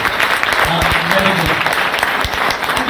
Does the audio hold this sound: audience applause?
yes